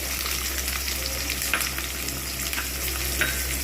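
Sliced onions frying in hot rice bran oil for chicken biryani, a steady close sizzle with a few sharper crackles and stirring clinks, no voices.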